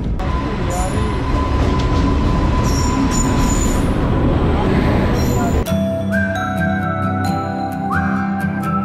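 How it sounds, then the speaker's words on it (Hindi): A Punjab Mail train pulls into a station on the Delhi to Ferozpur route. A loud, steady rumble of wheels with squealing tones gives way to clanking and rhythmic clicks as the cars roll past up close. "फाइनली आ चुकी है सामने ट्रेन"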